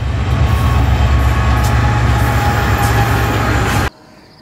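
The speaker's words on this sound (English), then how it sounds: "Why is this train not slowing down?" A freight train rolls past at speed on a highline in a loud, steady roar and rattle of wheels and cars, very close, cutting off abruptly near the end.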